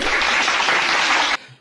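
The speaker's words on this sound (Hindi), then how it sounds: "बजाओ ताली।" A studio audience at a televised Hindi political debate breaks into a loud, dense burst of clapping that lasts just over a second, then cuts off abruptly into near silence.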